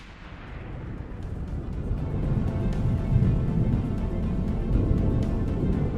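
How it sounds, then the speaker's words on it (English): Weapons fire from a system craft in the space strategy game Stellaris, a loud, dense rumbling barrage of booming blasts that swells and sustains without pause. "Here comes the system craft! And its weapons fire!"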